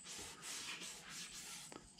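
A seam on a stiletto is rubbed down by hand, giving a brief run of close, dry, scratchy rubbing strokes with a soft, sanding-like texture and no talking.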